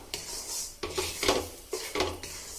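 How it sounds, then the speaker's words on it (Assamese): Cashews and raisins being fried in a pan for suji coconut laddu, heard as a metal spoon scraping and stirring the pan in rhythmic strokes, with a faint sizzle underneath. "এতিয়া কাজু আৰু কিশমিশৰ মিশ্ৰণখিনি অলপ টাইম ভাজিব লাগিব।"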